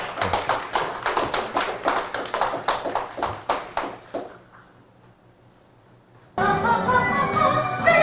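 A small audience at a lecture on Chopin claps in quick, even bursts for about four seconds, followed by near silence and then music starting.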